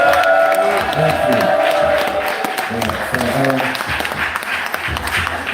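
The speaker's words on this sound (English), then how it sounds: "I just want everybody to cheer yourselves and Brother Dougie." An audience at a community tribute gathering applauds and cheers for Brother Dougie, with sustained clapping, whoops and shouts, loud and close, as a voice speaks briefly over the crowd.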